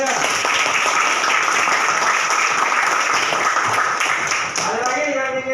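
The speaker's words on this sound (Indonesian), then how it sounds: "Oke, beri tepuk tangan buat teman kalian." Students in a classroom break into dense, steady clapping that carries on for several seconds and then tapers off, with voices mixed in beneath it and a speaker talking as it ends.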